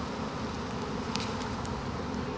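A honeybee swarm being gathered into a skep from among trees gives off a steady, dense buzzing drone that holds evenly throughout, close by and unbroken.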